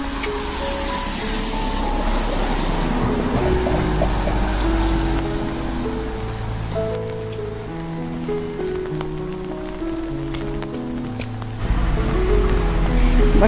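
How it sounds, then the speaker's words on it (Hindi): Steady rain pours down during the Raja festival, a dense continuous hiss that fills the whole stretch, loud and near, with faint tonal sounds drifting underneath and no one speaking. "वर्षा हो ची"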